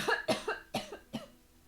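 A person coughs four times in quick succession, close and fairly loud, the hacks spaced unevenly over under two seconds with no talking.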